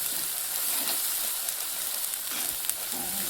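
Red chili, salt and turmeric frying in a pan with oil, giving a steady loud close sizzle that carries on unbroken throughout, with faint stirring.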